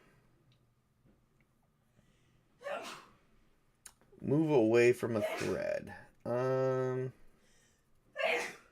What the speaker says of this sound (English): that was my wife in the back. She was sneezing.